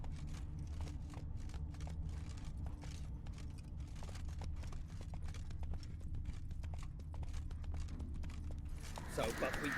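Galloping hooves of the horse Roach in The Witcher 3 pound in a quick, steady clip-clop rhythm throughout, with faint game ambience beneath and a brief rustle near the end.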